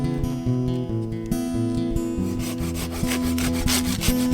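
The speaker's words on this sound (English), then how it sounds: "Easier than sawing it." Steady back-and-forth sawing through firewood on a canoe trip at Canoe Lake in Algonquin, a continuous rasping stroke rhythm, close up with no talking.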